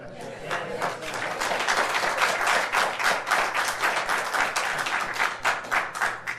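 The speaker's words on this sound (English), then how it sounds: "I'm at a loss to why you're clapping" Audience clapping during a Redondo Beach planning commission meeting, a moderate, steady patter of many hands in a hall that runs for several seconds without pause.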